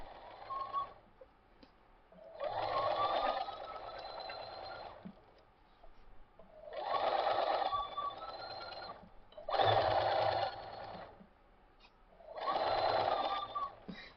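A sewing machine stitches quilt fabric for a king-size border in five sustained whirring runs of a few seconds each, separated by short quiet gaps, close and steady with no talking.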